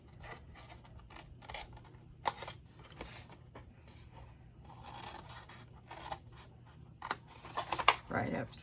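Scissors cut paper card along a score line for a large flip-top treat box. Quiet snips and scrapes come in short irregular bursts, close by, with a soft crinkle near the end.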